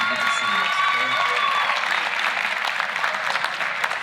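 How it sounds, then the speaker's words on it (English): An awards-dinner crowd applauds a senior girls' tennis team, dense steady clapping filling the room, with a voice speaking faintly over the top at the start. "one big round of applause for this amazing,"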